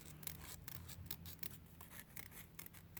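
Quiet, crisp snipping of scissors cutting through paper, a rapid series of short cuts with no talking.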